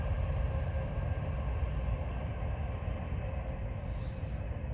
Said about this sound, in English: Let the train go past.